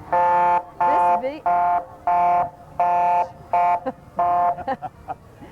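An emergency response vehicle's electronic beeper sounds in a series of about six loud, evenly spaced tones, each roughly half a second long, with short gaps between them, at the 2005 Alma, Michigan Highland Festival parade.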